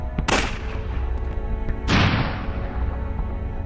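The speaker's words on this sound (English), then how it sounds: "Guns." Two loud gunshots ring out in the Unavowed video game, with a sharp blast near the start and a heavier one about a second and a half later, each trailing off into a low, steady background hum.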